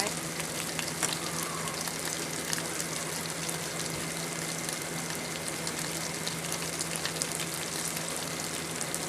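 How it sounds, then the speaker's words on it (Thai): Red curry paste sizzles in a pan over medium heat as it is stir-fried for a spicy pork bone dish, a steady close frying hiss with faint scraping and crackle throughout, no talk. "เราผัดพริกแกงเราก็เบาไฟกลางๆนะคะ ค่อยๆค่อยผัดไป"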